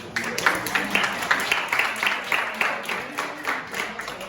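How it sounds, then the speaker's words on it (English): An audience at a community police crime and safety meeting breaks into a round of applause, dense steady clapping from a room of people lasting several seconds. "Can we get a big round of applause"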